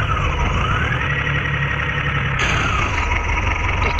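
Tractor engine in the India Tractor Game 3D video game, a steady loud drone with a rising synthetic tone like a reversing whine, uninterrupted and alone.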